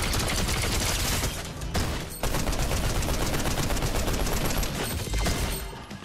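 Rapid SMG gunfire in Fortnite, dense sustained bursts of automatic shots with a brief pause before the firing resumes, loud and close with no talking.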